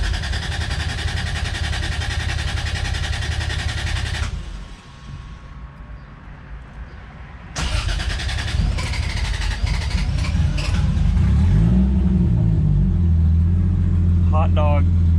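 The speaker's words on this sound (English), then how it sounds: "Okay, so we're good to start the engine." A Lexus IS300 engine running on a Link ECU cranks and fires for its first start, settling into a rough, rumbling low idle, with people talking over the steady mechanical noise.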